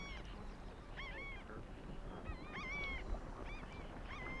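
Waterbirds calling in the Zapata swamp during the nesting season, a chorus of repeated honking and quacking cries from several birds at moderate distance over a steady wetland ambience.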